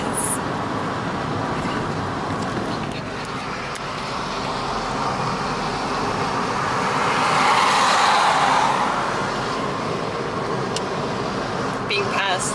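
A car drives along a road in Italy with a steady road and engine rumble, and another vehicle swells louder as it passes partway through before fading.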